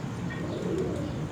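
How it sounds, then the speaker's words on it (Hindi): Teddy Cheena pigeons, a pure Teddy breed, coo steadily on a rooftop loft in Multan, a soft continuous low warble lasting throughout with faint chirps above and no talking. "ये टैडी चीने कबूतर हैं"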